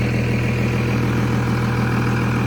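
A second-generation 24-valve Cummins diesel idles steadily after a cold start, with a continuous low rumble and no talk.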